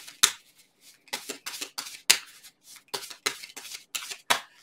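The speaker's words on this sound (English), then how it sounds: "Shuffle up again." A deck of cards is shuffled by hand at close range, giving a loud run of sharp riffling bursts and snaps in quick, uneven succession, with no voices.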